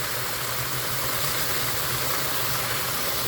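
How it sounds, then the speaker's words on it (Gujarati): A farm tractor idles close by with a steady, even low rumble and a faint mechanical knock, unbroken throughout and heard alone. "આવી ગયો છો ટ્રેક્ટર લઈને"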